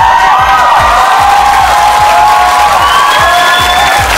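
A studio audience on a Vietnamese television show bursts into loud, sustained clapping and cheering, with whoops and shouts mixed into the dense crowd noise throughout.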